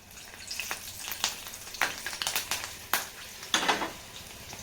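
Green chillies frying in hot oil for an evening snack, a steady faint sizzle broken by sharp crackling bursts and spatters, with occasional scrapes of a utensil stirring in the pan.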